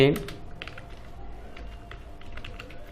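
Someone types a heading in MS Word on a computer keyboard, producing light, irregular key clicks close by that run steadily throughout, after a brief louder sound at the very start.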